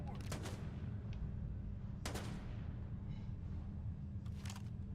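Sharp bursts of gunfire in the game Starfield, three separate cracks or short volleys spaced a couple of seconds apart over a low steady rumble.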